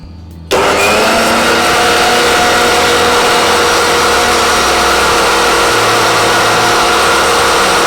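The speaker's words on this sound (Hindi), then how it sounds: "अब मैं ग्राइंडर में पीस लेती हूँ।" A mixer grinder whirs loudly and steadily after a brief quiet start, grinding spinach, onion and garlic into a gravy, its motor droning without a break until the end.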